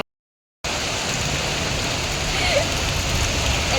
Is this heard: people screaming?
no